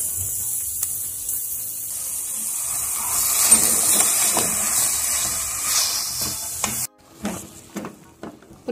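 Thinly sliced cabbage sautéing in a pan while being stirred, giving a continuous close hiss and sizzle that cuts off abruptly near the end, leaving a few soft clinks and stirring scrapes.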